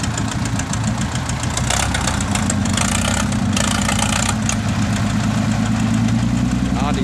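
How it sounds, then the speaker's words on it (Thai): A tractor engine running steadily, a loud low diesel rumble with a knocking, idling quality on a storm-soaked, muddy work site, with brief rattles partway through. "รถไถดันหรอ"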